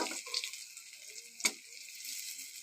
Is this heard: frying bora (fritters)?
yes